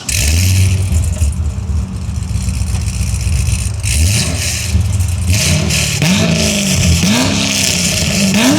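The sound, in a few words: V8 sports car engine revving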